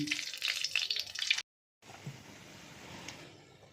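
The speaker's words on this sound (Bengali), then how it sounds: "এবার ফোড়নে গোটা গরম মশলা আর দুটো শুকনো লঙ্কা দিয়ে দিলাম" Whole garam masala and two dried red chilies hit hot oil in a pan for a Bengali masala prawn dish. A close, bright sizzle crackles for about a second and a half, then settles into a softer, steady fry.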